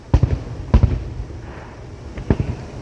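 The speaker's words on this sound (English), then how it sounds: "Insane fireworks." Fourth of July fireworks booming at close range, with three heavy explosive bursts spaced apart and crackling tails between them, loud and without talk.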